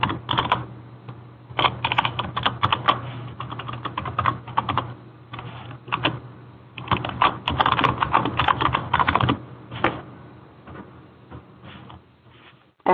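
Computer keyboard typing of a user ID and password at a hospice reporting system login page, a steady run of quick close key clicks in bursts with short pauses, over a low constant hum.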